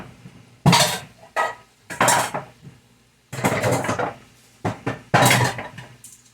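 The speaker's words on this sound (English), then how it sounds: "I'm going to grab one of my other pots." A metal cooking pot is pulled out and handled in a kitchen, giving several sharp clanks and scraping knocks in separate bursts with short pauses between, close and loud.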